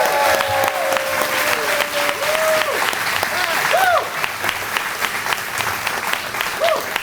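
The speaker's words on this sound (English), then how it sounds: "Give them a round of applause" An audience at a ribbon cutting for a skilled trades academy expansion in Portsmouth applauds, sustained clapping with scattered voices and a few whoops, slightly easing in the second half.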